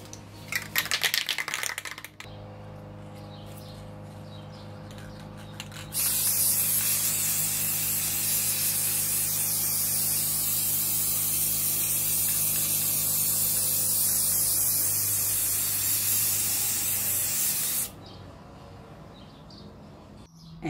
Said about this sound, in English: And then I'm going to spray them.